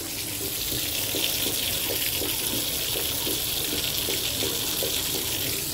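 Water runs steadily from a tap into a bathtub for a dog's bath, a constant broadband splashing rush with faint irregular patters underneath and no talk.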